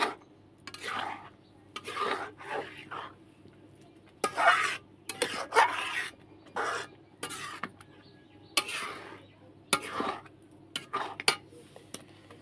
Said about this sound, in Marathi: तर असे मी पलटत राहते. दूध वगैरे टाकून घेतले त्याच्यामध्ये.